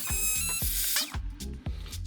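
A power drill bores a 6 mm hole into a concrete floor slab, giving a loud, close grinding whir broken by short repeated hammering bursts.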